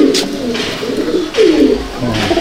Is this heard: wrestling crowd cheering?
no